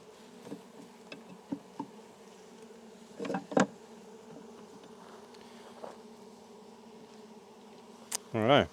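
Honey bees buzzing around an open beehive, a faint steady drone that swells with louder buzzes near the end, with scattered knocks and handling noise.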